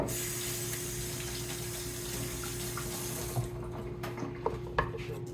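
Tap water runs steadily into a kitchen sink as a jalapeno is rinsed for ceviche, a constant hiss that cuts off near the end, followed by a few small knocks.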